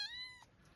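A pet cat meows once, a clear harmonic cry lasting about half a second, close and fairly quiet, in a garden polytunnel.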